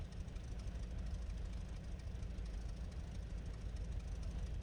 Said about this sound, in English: Engine seems to be coming alive there.